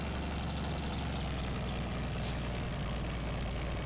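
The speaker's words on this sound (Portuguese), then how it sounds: "Pô, caminhão." A heavy log-hauling truck in the driving game My Summer Car, its engine droning steadily and loud with a low rumbling hum, a brief hiss of air near the middle.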